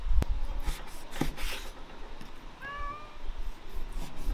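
A cat gives a single short meow partway through, heard over faint kitchen background with a couple of sharp knocks earlier on.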